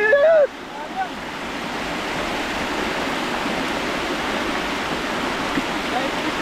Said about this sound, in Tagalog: Ang lakas po kasi ng agos ng tubig